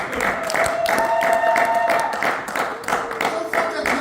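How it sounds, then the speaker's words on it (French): A church congregation claps for the Lord in a steady rhythm, with several sharp claps about every half second, under voices and sustained tones from singing or music. "Clap for the Lord for the gospel."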